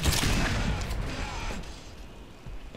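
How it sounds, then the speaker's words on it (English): A grenade explodes in Black Mesa, a loud close burst that opens the moment and rumbles down over a couple of seconds, with a fainter thump trailing near the end. "That was a grenade, guys, by the way."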